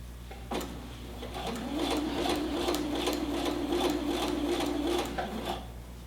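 A sewing machine runs steadily, stitching twill tape onto a waistband, with a continuous mid-pitched whir and rapid needle ticks for several seconds before slowing to a stop; close and alone.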